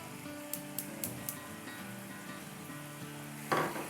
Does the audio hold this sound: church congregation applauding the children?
no